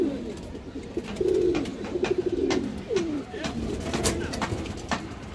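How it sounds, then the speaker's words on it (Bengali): A silver female pigeon coos in a run of soft, low, throaty rolling calls, close and fairly clear, with faint chirps and a little background noise around it. "দেখেন খুবই সুন্দর একটা সিলভার মাদি কবুতর মাশাআল্লাহ"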